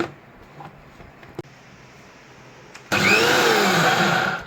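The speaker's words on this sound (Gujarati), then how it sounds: "હવે આપણે ઢાંકણ ઢાંકી લઈશું અને મિક્સરમાં પીસી લઈશું દાળને" A mixer grinder grinding soaked dal bursts on loudly after a quiet stretch with a couple of small knocks, then runs as a steady, harsh whirring roar to the end.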